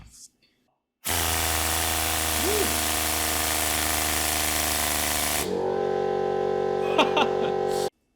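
A 3D-printed Wankel rotary engine runs on compressed air with a loud, steady, buzzing whir that starts abruptly, shifts to a lower, smoother drone midway with brief hissing bursts, then cuts off.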